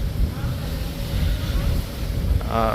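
A river launch's engine drones loud and steady with heavy wind buffeting on a foggy river as it picks up speed, and a voice briefly enters near the end.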